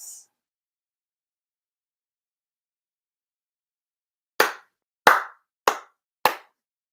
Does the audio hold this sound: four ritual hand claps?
yes